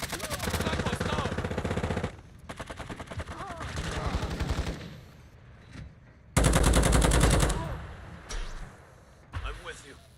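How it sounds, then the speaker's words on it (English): Video game gunfire: rapid machine-gun bursts and heavy shots in loud volleys, broken by short pauses and a sharp blast, with voices talking among the shooting. "I'm taking enemy fire."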